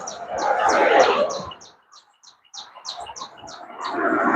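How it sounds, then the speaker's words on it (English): Small bird chirping in short, rapid repeated tweets during an outdoor walk, bright and fairly close, with a brief gap before the chirps resume over a soft background. "And that bird's chirping away."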